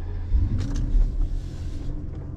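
A Mercedes-Benz SL 600 on a road test gives off a low engine rumble with a couple of brief surges, fairly close and steady, with no talking.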